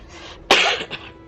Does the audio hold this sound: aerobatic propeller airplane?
no